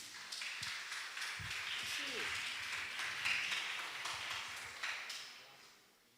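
A church congregation at a family worship service claps together in sustained, rhythmic applause that fades out at the end, with some low voices and a few thuds underneath.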